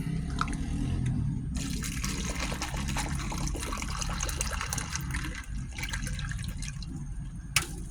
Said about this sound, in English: I'm gonna pour my green tea into my cup because my mouth's getting dry.